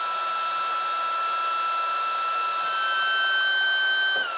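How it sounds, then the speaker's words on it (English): A power drill whines at a steady high pitch close by, pre-drilling wood, running continuously without pause, then slows slightly near the end; no one speaks. "I'm just going to pre-drill with this instance right here."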